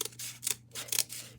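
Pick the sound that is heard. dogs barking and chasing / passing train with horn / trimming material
trimming material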